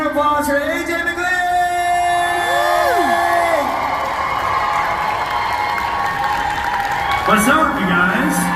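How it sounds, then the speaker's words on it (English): A loud convention crowd at FanX Salt Lake 2022 claps, cheers and whoops for AJ McLean, with rising and falling voiced shouts over continuous applause that swells again near the end. "Please give a huge round of applause for AJ McLean!"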